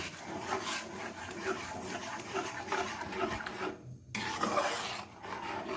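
A spoon scrapes and rubs in a rhythmic, gritty rasp while a flour mixture with grated coconut and a pinch of salt is stirred for Bengali pitha, close up, with one brief pause, no talk.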